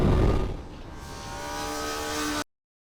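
A Kawasaki ZX-4RR, a 399cc inline four-cylinder sport bike, screams loudly at high revs on a twisty race track, holding a sustained whine that rises slightly before cutting off abruptly.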